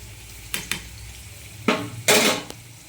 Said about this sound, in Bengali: এদিকে ভাতটাও মায়ের সাথে নাড়িয়ে নেব।